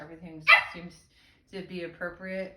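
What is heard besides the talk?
dog barking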